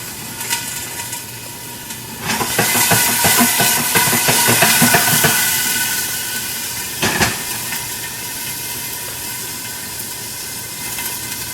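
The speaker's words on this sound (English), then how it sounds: "As you can see, the rice cooker, it's already boiling and cooking." A rice cooker boils with a loud steady hiss of steam, bubbling and sputtering, swelling in the middle then settling, plus a few clicks and clatters.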